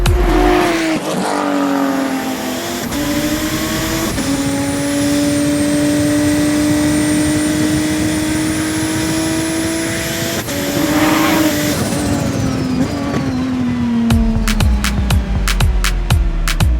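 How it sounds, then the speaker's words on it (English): A highly modified Toyota MR2 with an 850 hp turbocharged V6 races up a hill climb course, its engine wailing loudly through sustained high revs and gear changes, with a brief lift-off and sharp pops near the end. "Zeelie brought his highly modified Toyota MR2 home in first place."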